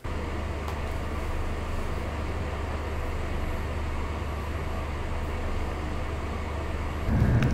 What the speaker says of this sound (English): I'm on the train to Berlin now